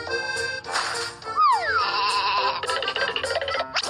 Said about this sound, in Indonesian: Kita kasih makan dulu kambingnya.